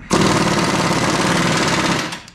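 A power tool runs a rear horizontal bushing bolt down on a 1965 Fury wagon in a short, loud, close burst of rapid hammering impacts, lasting about two seconds before winding down.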